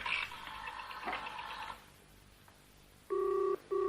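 Faint clicks and a tone give way to a telephone ringing, two loud electronic rings separated by a brief pause.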